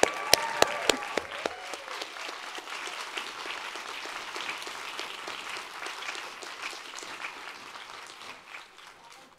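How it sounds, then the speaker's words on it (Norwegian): Audience applause at a Sami national day celebration meeting in Norway, a dense burst of clapping from a seated crowd that starts with a few sharp claps and settles into steady applause, slowly thinning toward the end. "Gi han en applaus!"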